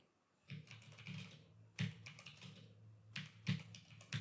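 Typing on a computer keyboard, entering a Docker command on Fedora: soft, irregular clusters of key taps and clicks, fairly close but quiet, with short pauses between the bursts.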